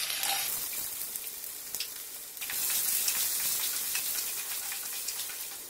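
Finely chopped ginger dropped into hot oil in a pan while cooking Palakkad-style red chili tamarind curry, a close, continuous frying sizzle that swells after a couple of seconds, no voices.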